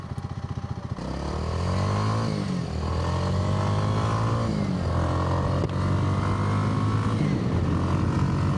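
A 2025 Kawasaki W230 single-cylinder motorcycle engine runs steadily and loud up close, first idling with a pulsing beat, then revving up and holding a strong drone with a couple of throttle swells.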